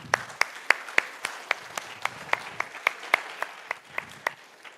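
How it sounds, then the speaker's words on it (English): A small keynote audience claps for volunteers, producing sparse, distinct handclaps in a steady, fairly even rhythm, more like a few people clapping than a full crowd, at moderate volume with no speech over it. "Let's give them a round of applause."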